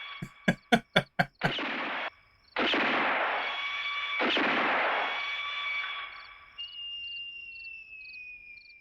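Gunshots from the western film For a Few Dollars More: a quick string of six sharp cracks, then louder echoing blasts that ring out over a lingering high tone, with no talk over them.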